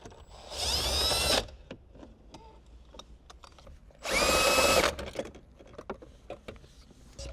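A power drill with an extension spins out two 10mm bolts inside a Lexus LS 460, two loud whirring bursts about a second each, separated by quieter clicks and handling noise.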